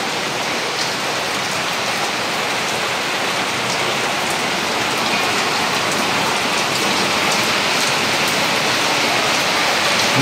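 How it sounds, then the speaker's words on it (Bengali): Heavy rain falls steadily for the whole stretch, a dense, loud, unbroken hiss of drops with no voices over it. "বৃষ্টি।"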